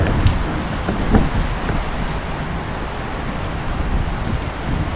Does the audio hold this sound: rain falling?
yes